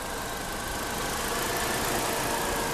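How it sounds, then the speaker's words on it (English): The engine of a 1999 Dodge Stratus runs steadily with a continuous mid-pitched hum and a rough, noisy texture, close and fairly loud, with no clear rise in revs. "Rev it up a little bit."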